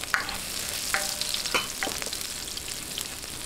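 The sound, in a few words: sautéing for pocherong baboy in a pan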